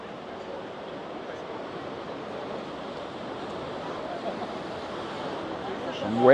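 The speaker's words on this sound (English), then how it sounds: "Waves coming in there." Ocean waves rolling in at night along the seafront promenade of Puerto de la Cruz, Tenerife, a continuous broad wash of surf with a faint wind-like rumble, building slightly toward the end.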